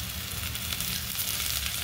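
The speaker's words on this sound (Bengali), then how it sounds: "এই যে দেখুন হয়ে গেছে ভাজা, কিন্তু দিয়ে দিলাম একটু কাঁচা লঙ্কা।" Fenugreek greens with green chilli frying in a pan give a steady, close, dense sizzle throughout, with no talking.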